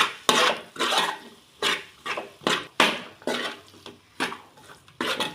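Spoon scraping and clanking against a cooking pot as masala paste, salt, chili powder, coriander powder and poppy seed powder are stirred into vegetable pieces for veg biryani; repeated rhythmic metallic strokes, close and fairly loud, with no talking.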